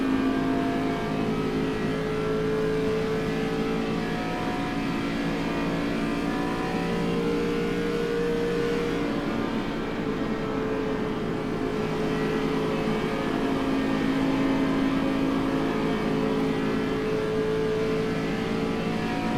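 An ARCA race car laps a 1.5-mile track, its engine holding a loud, steady drone from start to finish with slight rises and falls in pitch and no voices.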